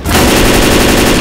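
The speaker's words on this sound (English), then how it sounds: "We need to shoot down that barricade!" Dense, loud automatic gunfire from a video game, Left 4 Dead 2, rattles continuously at close range, aimed at a barricade, with rapid shots blending into a sustained roar and no talk.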